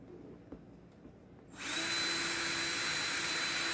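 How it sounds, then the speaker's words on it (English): A power drill bores into a plastic compost bin from the inside, starting abruptly after quiet handling noises and whirring loudly and steadily to the end. "I'm going to stick a whole bunch of holes in here. And I'm going to drill from the inside down."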